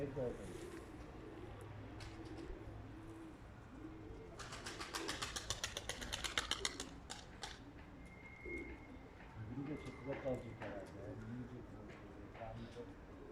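Pigeons on a rooftop at Gültepe, İzmir, cooing in soft repeated rolls at moderate distance, with a quick fluttery burst of wingbeats midway and someone talking nearby through much of it.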